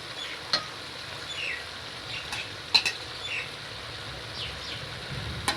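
Chicken achar gosht cooks in a pot with a soft, continuous sizzle as it is stirred. A spoon clicks against the pot now and then, quiet and close.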